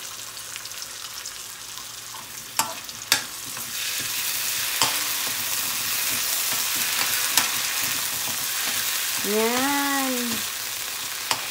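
Garlic and talangka crab paste frying in a pan, a steady close sizzle with occasional clinks of a stirring utensil and a brief exclamation from a voice.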